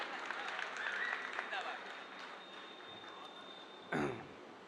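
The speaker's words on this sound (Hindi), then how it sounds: "आप जोरदार तालियों से उसका हौसला बढ़ाइए।" Applause from the audience at a mushaira and kavi sammelan in Nauchandi, Meerut, a fairly steady patter of clapping that fades slightly, with voices over it and a brief louder burst near the end.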